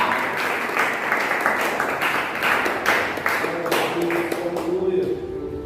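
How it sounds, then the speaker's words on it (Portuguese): A church congregation applauding during a worship service, a strong run of hand claps with rhythmic pulses that thins out toward the end as a voice and tones emerge. "Uma salva de palmas ao Senhor."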